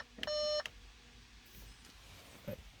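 An Audi with a 3.0T engine sounds a single clear electronic warning beep after push-button start, lasting under half a second, followed by a faint softer blip.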